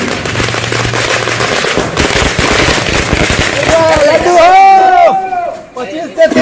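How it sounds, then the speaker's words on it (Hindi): Fireworks at a celebration in Bihar, dense crackling bursts like firecracker strings going off loudly over crowd noise and talk, followed by whistling, squealing rockets rising near the end. "कहीं आतिशबाजी हो रही थी"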